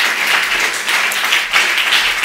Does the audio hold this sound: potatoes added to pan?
no